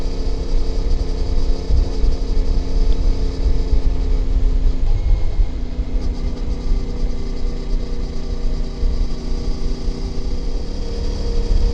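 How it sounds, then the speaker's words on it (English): A CFMoto motorcycle with a 21-inch front wheel cruising in sixth gear along country roads, its engine a steady, loud, continuous drone with wind rumble and no talking. "CFMoto's in 6th gear now."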